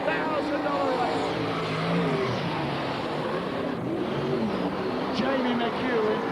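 Super sedan race cars roaring around Yandina Speedway, a dirt oval, in 1998, a loud continuous engine drone under an excited race commentator calling the action throughout.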